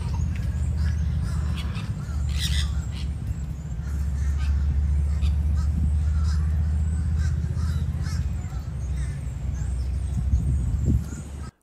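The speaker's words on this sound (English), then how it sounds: "those birds are parakeets" Parakeets screech and call at a beach pier, a flock of harsh, squawking cries repeating near and far over steady wind and background murmur, with a voice talking briefly.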